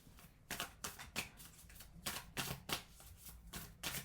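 Tarot cards are laid down one after another on a table, a series of soft, crisp slaps and slides at an irregular rhythm, quiet and close, with no speech.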